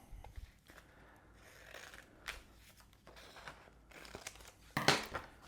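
Paper is cut and trimmed for a spring and summer journal, heard as soft crinkling and rustling handling noises up close, with a sharper crisp crunch of paper near the end.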